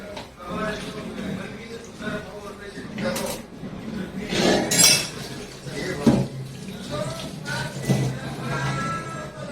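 Scrubbing and rinsing a blackened kadhai (cooking pan) at a sink, with metallic scraping, clattering and splashing water in uneven bursts while someone talks over it.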